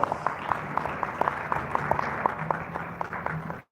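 Gala awards audience applauding, a steady dense wash of clapping with a few sharper individual claps standing out, continuing evenly for several seconds and then cutting off abruptly.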